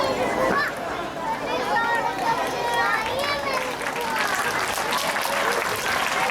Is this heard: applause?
yes